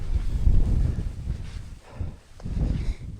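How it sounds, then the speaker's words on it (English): Strong wind gusting across a snowy winter campsite, with loud low rumbling buffets that swell and ease in waves and no voices. "it's really windy"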